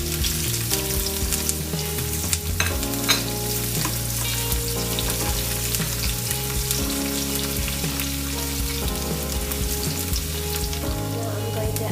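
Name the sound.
garlic and ginger frying and being stirred in a pan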